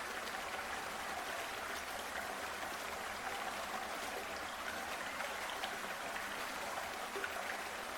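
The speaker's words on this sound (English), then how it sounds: "Guys, hear that water?" Steady running water of a stream, a continuous broadband rush that holds at an even level throughout with no talk over it.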